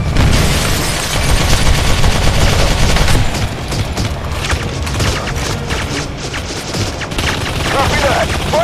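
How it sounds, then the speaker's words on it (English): Dense, continuous gunfire from the Modern Combat 3 shooter game during a helicopter deployment, with overlapping rifle and machine-gun bursts and booms filling the whole stretch, loud and close, with shouted voices mixed in. "Give me some cover fire!"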